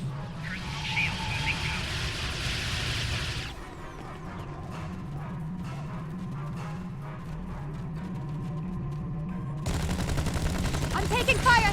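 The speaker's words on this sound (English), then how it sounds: "I'm taking fire here! Help!" Weapons fire rattles in rapid, repeated bursts during a Star Trek Online space battle, with a synthetic voice speaking over the fire and a loud, harsher volley breaking in near the end.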